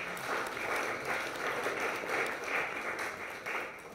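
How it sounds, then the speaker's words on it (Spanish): Audience applause at a talk or panel event, a fairly quiet, steady wash of clapping lasting the whole stretch with no speech over it. "Un aplauso por favor para César, bienvenido."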